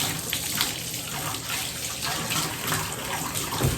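Water from a tap running steadily into a bathtub to rinse gunk from the drain and overflow, a continuous close hissing gush with splashing and no pauses.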